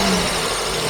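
A loud, close Jaguar E-Type V12 engine roar held at high revs, dense and continuous for under a second.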